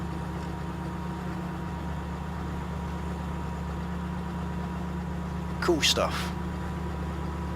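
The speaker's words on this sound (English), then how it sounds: "seeing this tractor slowly pull up the hill, burning 41 litres an hour of fuel" A John Deere tractor in Farming Simulator 17 pulls slowly up a hill with a steady, low, droning engine hum that holds constant throughout. A voice briefly speaks near the end.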